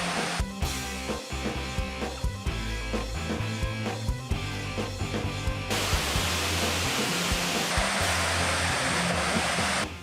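A mountain waterfall two kilometres from a barangay in Zamboanga Sibugay pours in a loud, steady roar of broadband rushing water, unbroken from start to finish.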